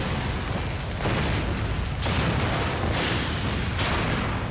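Grenade launcher explosions in the video game Resident Evil 4 come as a dense, loud series of roaring booms about once a second, each blast rumbling into the next with no quiet gaps.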